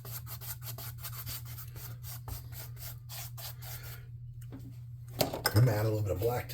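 Paint being rubbed into a homemade cave battle mat for tabletop roleplaying, a steady rhythmic scrubbing close by under a low mains hum, breaking off near the end as a voice starts talking.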